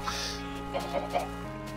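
Minecraft chickens give a few short clucks, three soft pulses in quick succession at moderate distance within the game's ambient sound, with no talk over them.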